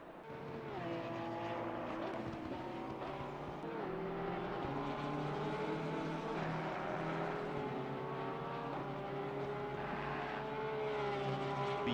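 Engine of a Porsche race car in a racing video game at Laguna Seca, a steady loud drone with rising and falling pitch sweeps as it works through the corners, tire noise faintly mixed in, no talk.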